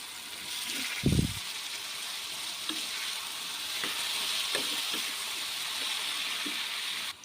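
Brinjal drops into a pan of frying tomatoes with a soft thud, followed by a steady, gentle sizzle and occasional small taps of stirring, heard close and fairly quiet.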